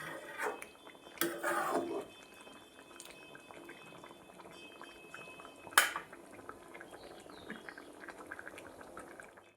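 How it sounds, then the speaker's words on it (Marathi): Sambar simmering in a pot after extra water is added, a faint steady bubbling close by, broken by a couple of brief clatters of a utensil against the pot. "याला चांगली उकळी येईपर्यंत आपल्याला ठेवायचं आहे"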